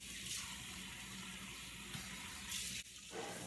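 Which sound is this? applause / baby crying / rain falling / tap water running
tap water running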